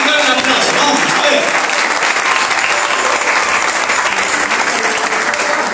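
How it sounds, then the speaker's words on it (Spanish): Church congregation applauding at an anniversary service, loud dense clapping that holds steady for the whole stretch, with some voices faintly beneath it. "¡Le encanta practicar un aplauso!"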